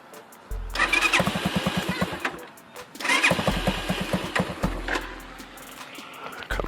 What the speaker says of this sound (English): Just film the bike when it starts.